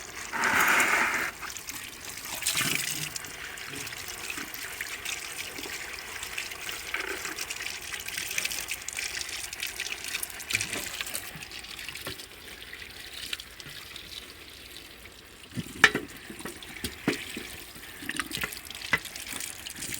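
Tap water running and splashing as a milking machine pipe is washed and scrubbed with a brush, a steady trickling stream with occasional louder splashes and clatter, close by and moderately quiet, no voices.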